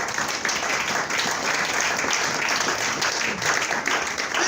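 Church congregation applauding at a Sunday service, a dense, steady wash of clapping that fills the whole moment with no pause, fairly close and loud.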